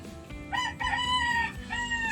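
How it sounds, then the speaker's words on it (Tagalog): A rooster crows nearby, a loud drawn-out call that rises and holds, followed by a shorter second crow, over faint background noise, at night in the Philippines. "Yon, manok uli."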